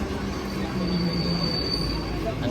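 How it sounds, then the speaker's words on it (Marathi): A Mumbai local train bound for Dadar rumbles steadily along the rails, a continuous low, dense roar with a faint high whine running through it, heard from on board or close by. "आता आम्ही ह्या ट्रेनने जाणार आहे दादरला"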